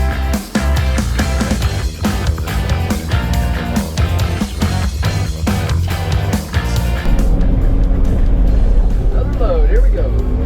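A dump truck arriving at a driveway construction site at a Colorado mountain house, its engine rumbling loudly and building into a heavy low drone, with irregular clanks and a person talking over it.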